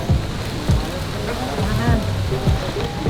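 Rain falls steadily around an outdoor motorcycle swap meet at Tomoci Moto Village, a soft continuous patter with scattered drops, heard under nearby voices and chatter.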